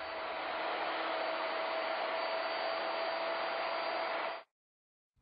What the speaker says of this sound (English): To cut the mortise, plunge a series of overlapping holes. Then, route side to side to clean it out.